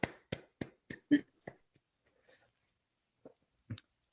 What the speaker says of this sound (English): Let's all give Gabby a round of applause for putting this together for everybody and giving a great presentation